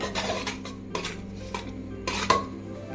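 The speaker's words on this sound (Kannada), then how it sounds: "ಇದನ್ನ ಇದ್ರ ಜೊತೆ ಹಾಕೊಂಡು ಫುಲ್ ಮಿಕ್ಸ್ ಮಾಡ್ಕೊಳ್ಳೋಣ" A spoon scrapes and clinks in a pot of sugar syrup mixed with powdered raisins, almonds and cardamom, a few quick stirring strokes close by with light metallic taps and no voices.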